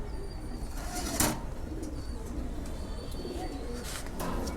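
Pigeons in a loft coo softly and continuously in a low rumbling murmur, with a brief flutter near the start and faint chirps from nearby birds.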